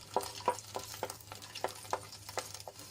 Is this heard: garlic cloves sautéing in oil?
yes